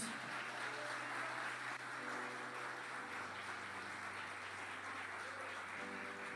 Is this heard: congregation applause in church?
yes